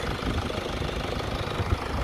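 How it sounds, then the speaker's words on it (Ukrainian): The diesel engine of a Mercedes-Benz E-class sedan idles with the hood open, giving a steady, quiet, even rumble with no other sounds. "Ось так виглядає моторчик, моторчик працює гарненько"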